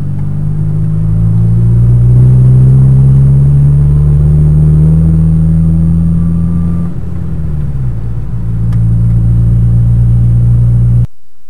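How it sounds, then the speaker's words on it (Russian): A Lada Kalina with a worn muffler and exhaust pipe revs hard through the gears, its loud, booming exhaust drone rising and dipping close by, with no talking over it. "Вот такой шум. Набираю обороты, переключая передачи."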